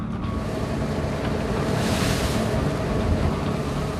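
Rough sea waves surge and spray over a fishing boat setting shrimp traps off Ulleungdo, a broad, constant wash of water and wind noise with a swell of spray near the middle.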